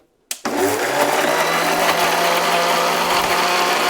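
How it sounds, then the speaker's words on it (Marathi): A mixer grinder grinding a bay leaf mixture starts abruptly after a brief silence, then runs as a loud, steady, close whirring roar without a pause. "आणि आता काय करू आपण मिक्सरचं झाकण लावू आणि घेऊया आपण मिक्सर लावून"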